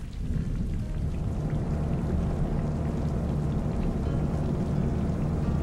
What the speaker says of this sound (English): The sky opened up and it began to pour.